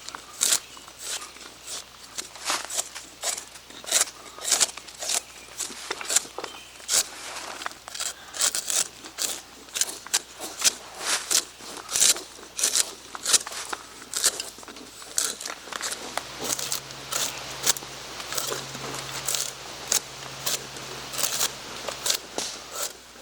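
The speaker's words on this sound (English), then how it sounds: "I'm not really concentrating on shaving that bark, just trying to expose it. And then we'll cut a strip" A knife shaves and slices a strip of hickory bark, giving a long run of close, crisp scraping and crackling strokes in an irregular rhythm with no talking.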